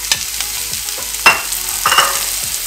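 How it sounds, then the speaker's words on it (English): Carrots sautéed in a pan for Filipino sweet and sour pompano, giving a steady sizzle broken by several loud scraping stirs of a utensil against the pan, close and with no voices. "Gonna saute this. Then we're gonna put the carrots."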